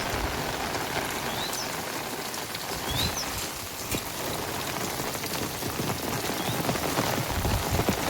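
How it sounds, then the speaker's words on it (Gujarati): Heavy monsoon rain falls on flooded village farm fields, a steady dense hiss of drops hitting water and ground, with faint bird chirps now and then and no talking. "અત્યારે વરસાદ બહુ સારો છે ને ખેતરોમાં પાણી ભરાઈ ગયા છે"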